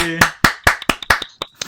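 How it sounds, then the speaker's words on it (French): A few people clap in short, uneven bursts, close by, with excited voices cheering over it. "C'est malade, on s'applaudit nous-mêmes."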